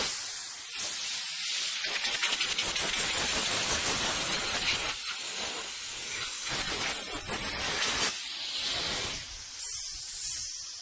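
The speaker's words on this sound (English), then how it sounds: "Got an air blower here." A compressed-air blower blasts across a car engine in loud, sustained hissing bursts that waver and briefly drop off before resuming, close up and with no voices.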